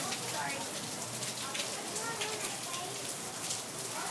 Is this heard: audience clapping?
no